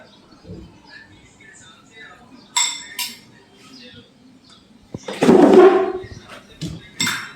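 Plates and cutlery clink close by as a home lunch of rice, mashed potato and red spinach is set out: sparse clinks and scrapes of dishes, with a louder rattle near the end and voices faint in the background.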